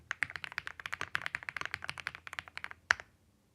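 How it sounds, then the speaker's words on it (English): Rapid, even clatter of keys on a computer keyboard as a name is typed, with dense clicks for about three seconds ending in one sharp, louder keystroke, close and dry. "I'm typing my name"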